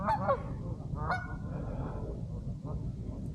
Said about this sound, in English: this is a lot of Canadian geese